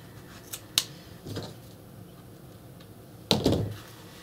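Scissors trimming excess covering material at the corner of a Secret Garden slipcase, a few brief crisp snips and rustles spread over a few seconds, close and fairly quiet, with no talking.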